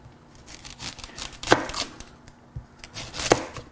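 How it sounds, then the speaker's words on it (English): A knife chops an onion on a cutting board for guacamole, with irregular, close, crisp cuts and scraping over a faint steady hum. Nobody speaks. "Let's go ahead and get our onion cut up first."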